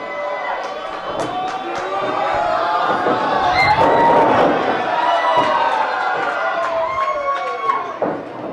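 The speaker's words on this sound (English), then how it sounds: "The crowd loves it." A wrestling match crowd cheers and roars steadily throughout, with loud whoops and shouts rising in the middle and sharp slaps or thuds cutting through near the end.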